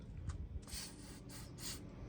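Short hissing bursts of a spray can, three or four quick sprays in a loose rhythm, fairly quiet and close, spraying ball bearings in a car seat mounting.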